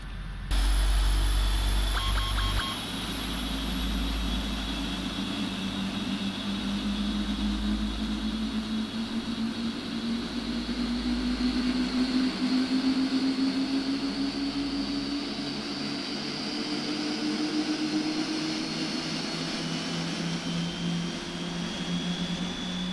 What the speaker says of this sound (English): we have 4 good engine starts